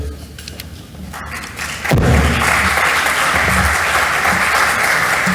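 A plenary session audience bursts into loud, sustained applause for a speaker at a conference closing, swelling abruptly after a quieter opening and holding strong to the end.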